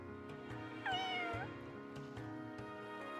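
A cat in the video game Fire Emblem Engage gives a single clear meow in the middle, heard over a quiet game backdrop with rhythmic tapping.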